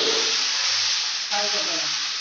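Okra fries in hot oil with a loud, steady sizzle and hiss, while faint voices talk briefly underneath.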